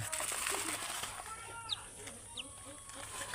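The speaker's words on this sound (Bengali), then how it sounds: "এই যে আমার হাঁস, চীনা হাঁসের বাচ্চা" Young Muscovy ducklings give a few faint, high, brief peeps amid soft background noise, while a person calls and talks nearby.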